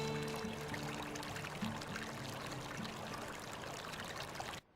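Wheat grains tipped into a river, a continuous rushing pour lasting a few seconds that cuts off abruptly, with a faint tonal backing underneath.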